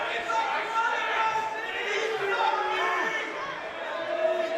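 A wrestling arena crowd murmurs and jeers steadily in the background, a broad mass of distant voices beneath a commentator talking over it.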